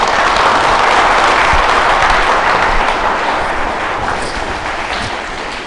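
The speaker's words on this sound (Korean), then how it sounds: "박수 한 바탕 크게 치고" A lecture audience at the Busan Regional Tax Office claps loudly for the monk giving the talk, a thick, continuous roar of many hands that eases off gradually.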